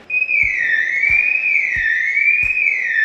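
A loud emergency siren wails with a smooth rising and falling tone, close by, repeating through a few slow cycles over faint low thumps, with no speech.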